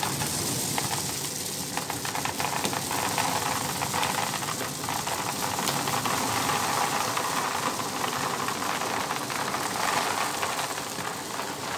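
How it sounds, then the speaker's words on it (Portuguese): Guabi Natural dry pet food kibble pours from a large sack, giving a continuous dense rattling patter of pellets throughout, steady and close, with no speech. "Filma caindo a ração"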